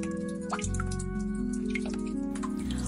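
Water drips from a cracked pot as a sound effect in a folk tale, heard as a faint, scattered series of small drips over a steady low hum.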